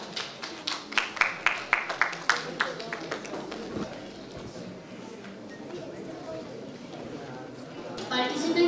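A gentle round of applause at an extempore competition at a literary festival: a quick run of rhythmic, fairly even claps that soon fades into a murmuring hall, with voices rising near the end.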